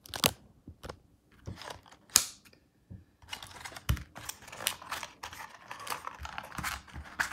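Scissors snip through packaging to free a Transformers Studio Series Airazor figure, giving close, irregular clicks and crunchy cuts with brief pauses between them.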